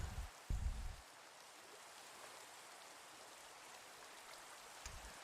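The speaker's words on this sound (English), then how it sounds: "Rain again." Steady rain in a Minecraft-style block game hisses evenly throughout, a soft continuous wash with a few low rumbling bumps near the start and end, and no talking.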